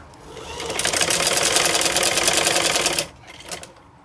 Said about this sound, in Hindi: अब हम यहाँ पर अपनी सिलाई लगाएंगे।